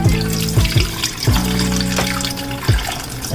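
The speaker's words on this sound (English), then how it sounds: "And we wash our peas." Tap water runs loudly over peas being washed in a sink, a steady close splash broken by a few sharper pours and surges.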